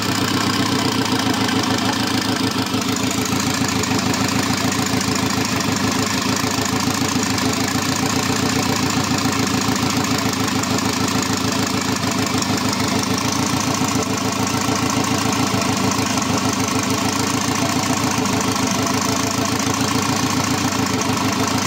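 A 1.4 MPI turbo engine, newly refitted after being removed from the car, runs at a steady, even idle with a continuous close-up mechanical drone and a faint knocking rhythm, no voices over it.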